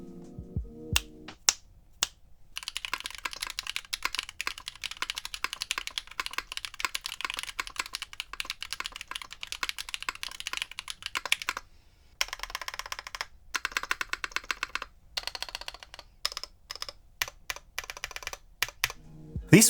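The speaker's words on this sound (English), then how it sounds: "let's go to the stock typing test" A keyboard fitted with Neson Design Camping Life stock linear switches is typed on in rapid bursts, clean crisp keystrokes clicking close up with brief pauses between runs.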